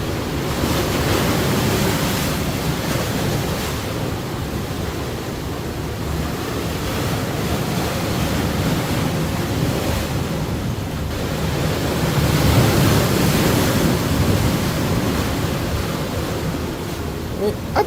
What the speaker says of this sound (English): See these waves, they come, they crash into those rocks and then they splash onto the pathway.